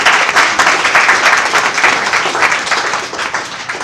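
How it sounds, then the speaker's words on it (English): At a climate science panel on the future of skiing, the audience gives a loud, close round of applause. The clapping is dense and pulsing and tapers slightly near the end. "they really deserve a round of applause for that"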